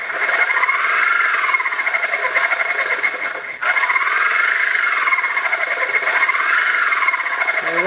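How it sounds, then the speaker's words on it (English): A small RC motor drives a little gearbox with a chain and sprocket, giving a steady, close mechanical whine with a rising-and-falling pitch that repeats in slow cycles. The whine breaks briefly midway, then resumes. "I'm finding that the chain and the sprocket make more noise than my little gearbox"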